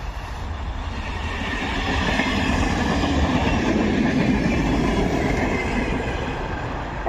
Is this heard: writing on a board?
no